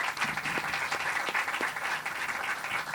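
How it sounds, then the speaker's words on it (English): An audience at an outdoor sign unveiling for Little Arabia in Anaheim applauds, a dense steady patter of many hands clapping at once, fairly close and heard alone. "So please join me in a round of applause for everybody who supported and helped make"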